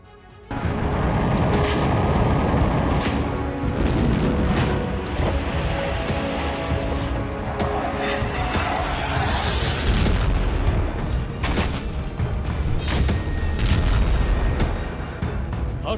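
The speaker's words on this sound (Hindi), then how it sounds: "हर दिन सैकड़ों धमाके" Repeated explosions and booming blasts, some sharp and some rumbling, scattered irregularly over a continuous low roar.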